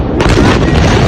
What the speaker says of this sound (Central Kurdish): دوو تەقینەوە بە دوای یەکدا لە نزیک بەندەری بەیروت ڕوویانداوە